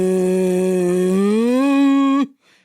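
A voice hums a low, droning rumble that slides slightly upward before cutting off abruptly, imitating a deep electronic bass.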